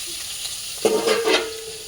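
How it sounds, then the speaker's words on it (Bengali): Fish fries in a pan, a steady close hiss of sizzling oil broken by a few sharp spattering pops, short and fairly loud with no talk. "এই মাছটা খুব ফোটে, ওই জন্য আমি থালা দিয়ে ওকে ঢেকে নেবো।"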